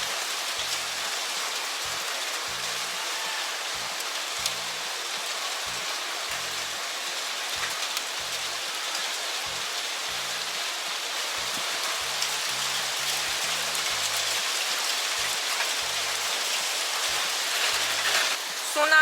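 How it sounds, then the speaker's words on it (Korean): Heavy rain pours down in Plovdiv, Bulgaria, a dense steady hiss of drops drumming on surfaces, loud and continuous throughout, with faint distant tones underneath. "비 엄청 많이 와요 여러분 소나기인 것 같은 곧 그칠 비인 것 같긴 해요"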